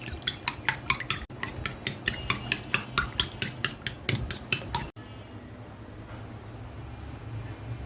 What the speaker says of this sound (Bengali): এখন ফেটে নিচ্ছি।